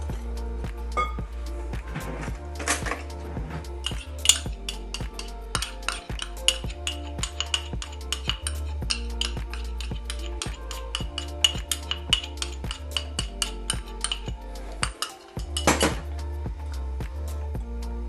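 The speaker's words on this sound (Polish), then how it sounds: "Wlewam około 100 ml mleka i mieszam do tej pory, aż pozbędę się grudek na gładką masę" Milk and cornstarch stirred together in a bowl, a spoon or whisk clinking and scraping against the bowl in a quick, repetitive rhythm, close and moderately loud with brief pauses.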